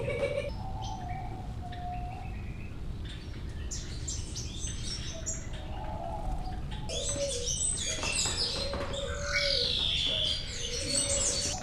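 Birds call throughout the main aviary at Bird Kingdom, Niagara Falls: overlapping chirps, tweets and soft dove coos, moderately near, over a steady indoor hum, with no talk.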